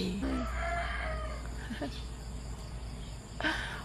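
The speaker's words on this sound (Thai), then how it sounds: "เสียงไก่" A rooster crows once near the start, a drawn-out call, then a short squawk later, over a steady outdoor garden hum of insects.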